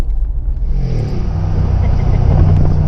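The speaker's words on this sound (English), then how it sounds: "who doesn't love a side exit exhaust?" Brabus G700 Widestar with side exit exhaust, a loud, deep engine rumble that swells steadily throughout as the engine revs close by.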